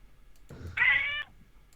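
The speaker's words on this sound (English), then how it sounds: "There's a cat on the line." A single short cat meow comes through a call-in talk show phone line, thin and slightly filtered, rising briefly out of quiet line noise.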